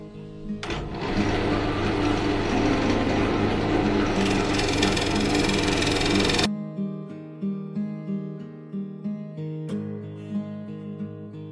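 A wood lathe turns a cracked bowl blank while a freshly ground bowl gouge rounds and trues it, a loud, rough continuous scraping cut for about six seconds, then cleaner rhythmic motor hum with soft rapping as the piece spins.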